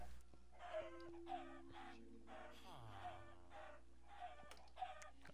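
Chickens cluck repeatedly on a chicken farm in Minecraft, with short, bursty calls recurring throughout against a steady low background hum.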